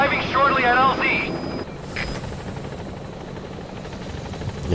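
A helicopter arrives in the video game Metal Gear Solid V with a steady rotor drone. A voice speaks over the opening moment, then the rotor noise continues alone at moderate loudness.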